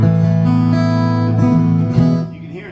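Acoustic guitar heard through its pickup alone, without a microphone, a few loud sustained chords with a drier, narrower tone, ending in a brief decay.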